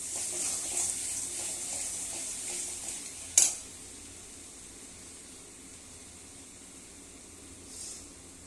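Tomatoes frying in a pan give a light sizzle, with a spoon scraping and stirring through the first few seconds, then a single sharp clatter before a quieter steady hiss.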